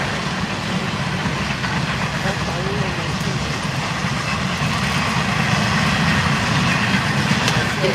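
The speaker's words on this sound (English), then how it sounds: "Sorry, there's a train, but I like trains." A train passes nearby with a steady, rumbling roar and rattling wagons that stay constant throughout, mixed with voices talking at a party.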